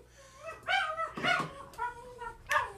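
A dog whimpers and gives a few short yips and barks, high whining cries in uneven bursts, fairly faint and nearby, with a low background hum.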